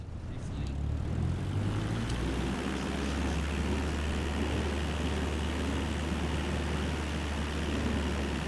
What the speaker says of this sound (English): Taking a nice little Cessna out there today.